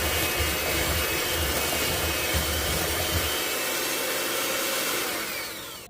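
A hand mixer whirs loudly and continuously while creaming a cup of sugar for chocolate peanut butter cookies, the motor tone steady before easing off and stopping at the end.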